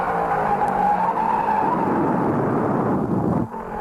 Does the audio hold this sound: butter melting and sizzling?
no